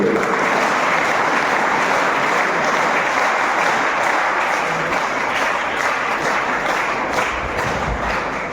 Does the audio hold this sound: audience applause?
yes